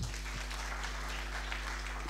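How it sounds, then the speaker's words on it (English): Steady crowd clapping at a Kenyan anniversary celebration for a peace organisation, a continuous wash of hands over a low hum, with no talk. "Let's give them a hearty clap again."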